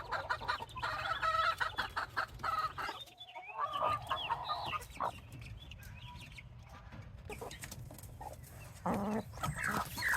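Backyard chicken flock with new chicks: hens clucking and murmuring close by, with higher chirps and calls scattered through the clip and no talk.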